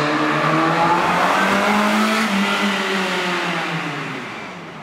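A Ferrari 360 engine drones and revs as it draws closer, audible from about 500 metres away, loud and continuous, then fades slightly toward the end.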